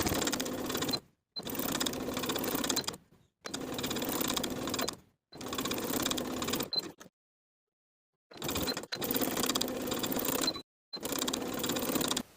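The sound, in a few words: sewing machine top stitching lace along a bodice edge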